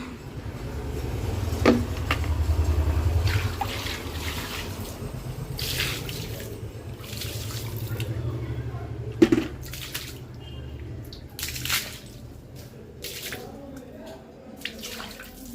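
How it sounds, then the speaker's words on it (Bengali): Phenyl water is poured and a mop is dragged across a veranda floor, giving sloshing, splashing water and scattered wet swishes at a moderate distance. A voice talks faintly in places. "জলটা ঢেলে দিয়ে এই যে মপ দিয়ে টেনে"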